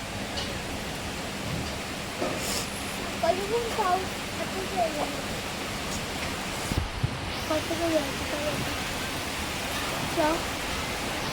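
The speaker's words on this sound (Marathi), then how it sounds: "बघा पाऊस आला तो पण इतक्या जोरात" Steady, dense rain pouring down, a constant hiss throughout, with faint voices and a few brief calls mixed in.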